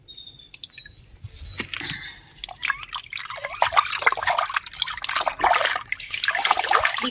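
Rice-flour water poured from a bucket onto soil in potted plants, starting with a few drips, then building into a steady close splashing trickle.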